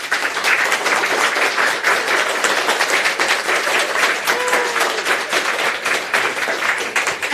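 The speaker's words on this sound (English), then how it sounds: "give everyone who read tonight and performed tonight a huge round of applause" Loud, close applause from a cabaret audience cheering readers and performers at a sci-fi evening, dense rapid clapping sustained evenly throughout with a brief whistle or voice in the middle.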